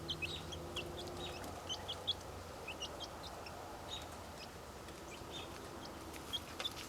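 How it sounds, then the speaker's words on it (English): Young, half-grown chickens cluck and chirp in a backyard, with small scattered calls repeating over a steady low outdoor hum and no talking. "So, yep, they're scratching around. They're becoming big chickens."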